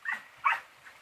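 A hunting dog gives two short, sharp barks or yips close by, the second louder, with no talking.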